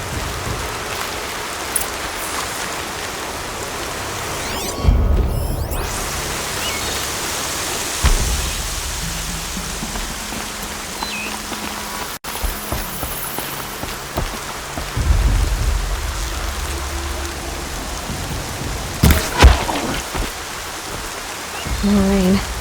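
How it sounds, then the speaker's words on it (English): Steady rain pours across an open landscape in Horizon Zero Dawn, a dense continuous hiss of drops on the ground with a few louder thuds and splashes, no voices. "More rain."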